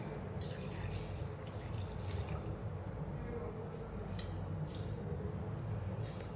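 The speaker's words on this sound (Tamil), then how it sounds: "ஒரு கிளாஸ் தண்ணி சேர்த்துக்கலாம்" Water pours steadily and close by into a blender jar, a continuous splashing rush that fills the whole stretch.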